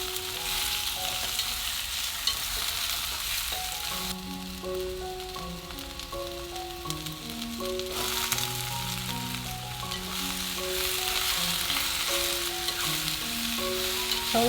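Shiitake, spring bamboo shoots and celtuce sizzle steadily while being stir-fried in a wok, a continuous close hiss under soft background music.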